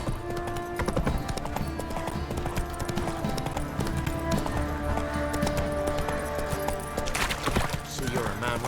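Roach the horse's hooves clip-clop steadily in a Witcher 3 village scene, a close, even walking rhythm carried through the whole stretch over game music and ambient murmur, with a brief brighter burst near the end.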